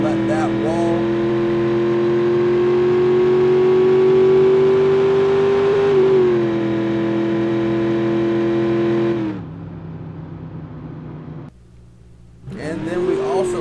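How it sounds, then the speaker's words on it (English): Bandito 4WD mud truck roaring down a drag strip, a loud sustained engine drone climbing steadily in pitch, dropping briefly, then cutting out near the end before revving again. "I actually have some footage of this thing running down the drag strip, pulling a huge wheelie"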